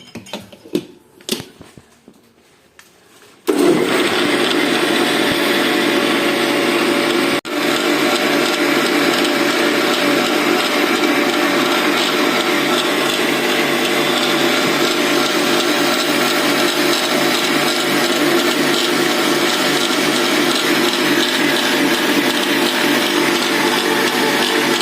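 After a few brief clatters, a blender kicks on to mix a cocktail with sugar, roaring loud and steady at close range for over twenty seconds without a pause.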